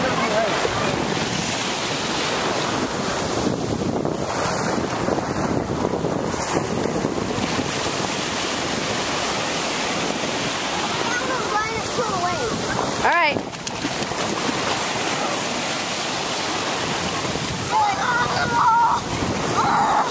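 Ocean waves break on a beach in a continuous roar, heavily buffeted by strong wind against the microphone, with voices faintly mixed in.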